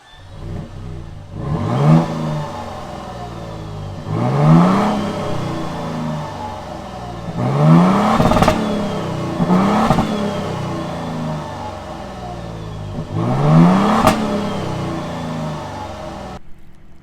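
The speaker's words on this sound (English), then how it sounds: "It does still have a TRD catback exhaust. Now let me show you what it sounds like on the outside." A 2024 Toyota Tundra TRD Pro with a TRD catback exhaust, heard from outside as the engine revs in four or five sharp bursts, each rising and then dropping back to a steady idle between them.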